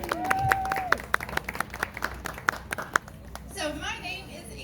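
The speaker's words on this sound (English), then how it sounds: "give yourselves a round of applause" A crowd at the Battletown Witch Festival breaks into scattered applause, individual claps sharp and close over a spoken voice at the start, thinning toward the end.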